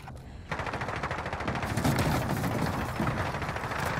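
Sustained automatic gunfire rattles in a first-person shooter match, dense and loud from start to finish, kicking up sharply after a brief quieter opening.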